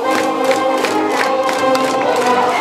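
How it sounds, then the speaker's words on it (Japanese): Supporters cheer and chant from a packed stand at a high school baseball game between Hachioji and Soka high schools, a loud surging roar with rhythmic pulses of massed voices that swell continuously. "うねるような大きな力でこの声援が入ってきます"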